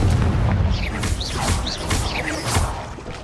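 Confringo blasting spells cast in Hogwarts Legacy, a rapid series of four loud bursting booms laced with swooping whistling whooshes, all close and overlapping.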